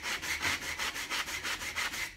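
Rhythmic back-and-forth wet sanding of wood with sandpaper, about nine even strokes with a gritty, scratchy texture, close and continuous.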